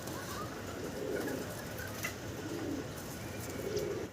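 Low coos from Danish pigeons repeating a few times beneath a steady, noisy background hum.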